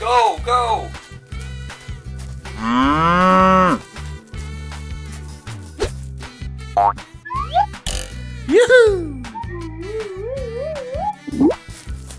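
Cartoon cows mooing in a playful animated scene, several drawn-out moos rising and falling among bouncy boing and plop effects and a lively music bed, loud and close throughout.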